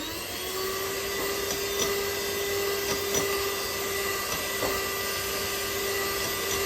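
An electric hand mixer whirs steadily, beating country sugar into sprouted ragi flour brownie batter, a close, even motor whine with faint intermittent ticks of the beaters against the bowl.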